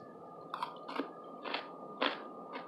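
Close, crisp crunches from biting and chewing crispy Korean cucumber salad (oimuchim) dressed with sesame oil and sesame seeds, about five distinct bites spaced irregularly over a quiet background.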